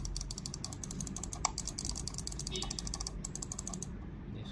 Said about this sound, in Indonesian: untuk suaranya tombolnya sendiri kalian bisa dengerin